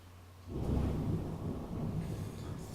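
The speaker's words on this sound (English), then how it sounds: "thunder." Thunder rolls in suddenly after a quiet start, a deep sustained rumble that swells and then lingers at a moderate level, with a faint rain-like hiss on top.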